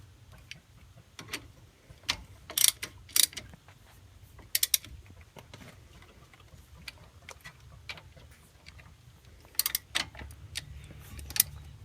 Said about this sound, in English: I can go ahead and put my screws back in and make sure I get both of them put in good and tight